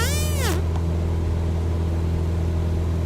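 Cessna 172 piston engine running steadily at 2500 RPM in flight, a loud constant droning hum filling the cabin, with a brief rising-and-falling tone near the start.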